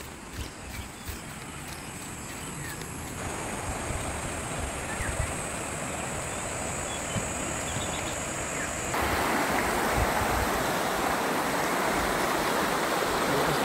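A gentle spring-fed stream with a mild current flows steadily at a campsite in Famy, Laguna, a continuous broadband wash of running water that grows slightly louder and brighter partway through, with no talking.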